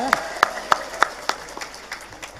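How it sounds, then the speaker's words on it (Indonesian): A small gathering claps in a handful of sharp, evenly spaced strokes that grow softer and more scattered, each clap clear and close. "Tepuk tangan dulu, luar biasa."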